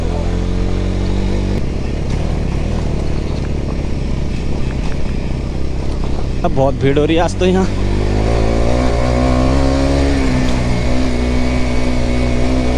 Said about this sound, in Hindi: मेरी बाइक भी हो चुकी है एकदम लाउड, खतरनाक वाली यार